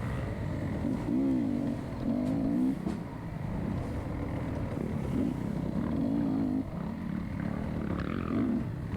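A dirt bike engine revs and drones steadily while riding on a greasy, slick trail, its pitch rising and falling in repeated surges, loud and close throughout.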